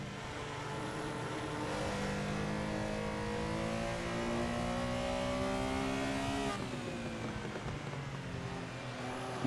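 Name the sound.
Porsche Carrera RSR race car engine backfiring, Assetto Corsa video game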